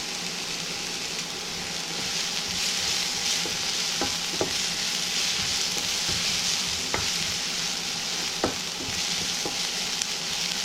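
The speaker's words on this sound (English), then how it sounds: "The purpose of sauteing this garlic just to kill the rawness of the garlic" Garlic sautés in a hot pan with a steady, close sizzle. A utensil gives a few sharp clicks and scrapes against the pan as it stirs. No one speaks.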